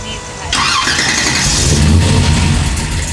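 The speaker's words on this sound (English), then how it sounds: "it's a 70 Oldsmobile Cutlass, and it's got a 454 with a 671 big case, old school blower" A 1970 Oldsmobile Cutlass with a 454 V8 and a big-case 6-71 blower fires up after half a second and keeps running loud and close, its rough, lumpy idle swelling with revs.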